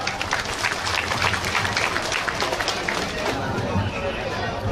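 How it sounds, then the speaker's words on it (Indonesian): Steady crowd applause at a formal Karang Taruna opening ceremony in Lampung fills the whole stretch, with dense, continuous clapping and background chatter. "tepuk tangan juga"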